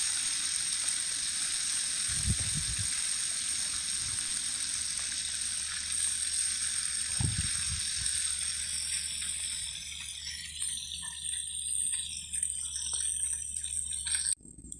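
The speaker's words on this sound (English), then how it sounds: "turn the fish onto the other side and continue to fry this side for another 2" Fish frying in a pan for a Nyonya fish tempra recipe gives a steady, bright sizzling hiss, broken by a couple of soft clattering knocks and fading quieter near the end.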